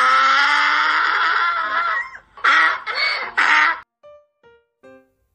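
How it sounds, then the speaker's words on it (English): A duck on a farm gives a long, loud, raspy quack, then three shorter quacks in quick succession, followed by a few faint, brief tones. "Duck."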